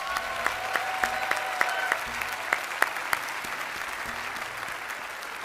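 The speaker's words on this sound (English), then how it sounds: "Let's give them another round of applause." A crowd applauds at a private academy's commencement ceremony, an even continuous patter of clapping with occasional sharper claps, carrying steadily throughout.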